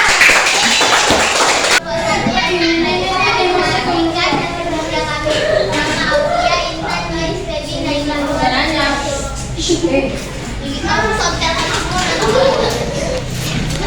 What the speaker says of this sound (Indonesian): sekarang berikan aplaus untuk kelompok 3